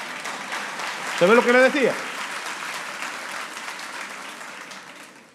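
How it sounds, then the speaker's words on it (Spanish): A church congregation applauding during a sermon, broad steady clapping filling the room while a voice speaks briefly over it, the applause fading gradually toward the end. "Aplaudan ahí, por favor, también."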